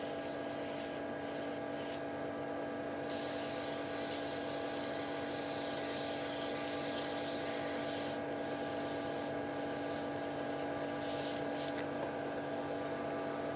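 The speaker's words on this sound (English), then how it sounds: "Going to sand that with my 800 grit." Steady high whine of a wood lathe spinning a CA-glue-finished pen while 800 grit sandpaper rubs against it, a constant close hum with faint brief swells of scratchy friction.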